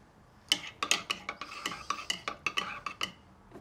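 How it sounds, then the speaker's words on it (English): A spoon stirs a hot cup of coffee, clinking against the mug in a quick run of about a dozen bright taps, close and clear with no talk. "All right, stir it up."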